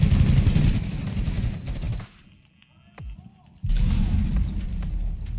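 Gunfire tears through breachable walls in Rainbow 6 Siege, with rapid, dense, loud bursts that break off into a brief lull of small debris sounds before the heavy firing resumes.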